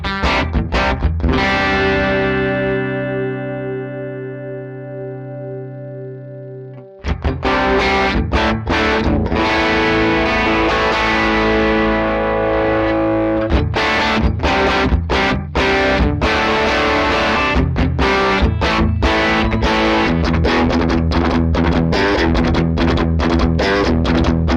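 Electric guitar played through an Axe Fx III modeling a Fender Deluxe amp with the input drive boosted and reverb off, a held chord decaying into busy driven riffs and strummed chords, loud and up front with no talk.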